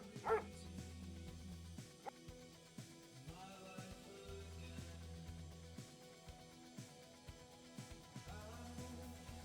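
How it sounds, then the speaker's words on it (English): Feral dogs in a video game bark and yip as a pack, with repeated sharp barks and whimpers scattered across the stretch over constant game music and ambience. "Man, this is a pack of probably the feral dogs."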